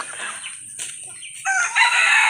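Chickens clucking and crowing close by as they are fed, short calls that rise into a louder stretch toward the end.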